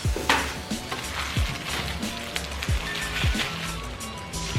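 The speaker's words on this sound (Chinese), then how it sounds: "我妈在炒菜，大家不要害怕。" A mother stir-frying food in a home kitchen: a continuous sizzle under a spatula scraping repeatedly against the wok, with clanks of cookware heard a little way off.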